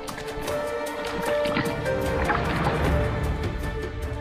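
Camels gulping water in the Thar Desert, a busy wet sloshing and gurgling with repeated splashes, fairly close and moderately loud, with no talk over it.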